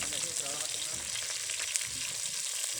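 Tilapia fish frying in hot oil, a dense steady sizzle and crackle close by with occasional sharp pops, no talk over it.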